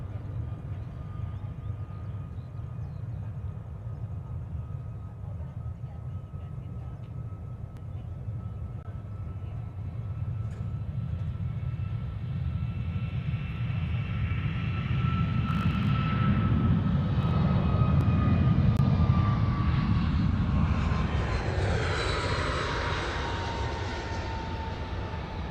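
An American Airlines jet rolls for takeoff at Honolulu airport, its engines swelling from a distant steady whine into a building roar that peaks and then fades as the aircraft accelerates away, heard from afar.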